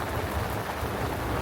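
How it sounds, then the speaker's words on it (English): Steady rain hammers down outside a fishing bivvy on Gaunts lake at Linear Fisheries during a thunderstorm, a dense continuous wash of drops with a low rumble beneath, nearby and even throughout. "now we've got a bit of a thunderstorm"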